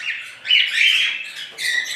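A white male cockatiel that carries the albino gene, kept as a breeding pair with an albino hen, gives shrill, scratchy squawks in three close, loud bursts over two seconds.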